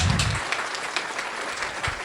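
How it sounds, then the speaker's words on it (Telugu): Applause from a live audience greeting a contestant at a stage event, a steady mass of clapping that carries through the whole stretch at moderate loudness. "గట్టిగా చప్పట్లతోటి"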